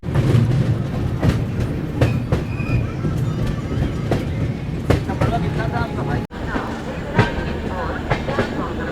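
Kashi Mahakal Express, Varanasi to Indore, rolling on rails toward Kanpur Central, a loud steady rumble heard from inside with repeated sharp clatters of wheels over rail joints and a brief dropout near the end.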